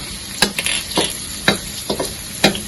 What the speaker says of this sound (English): fry until you can smell the ginger fragrance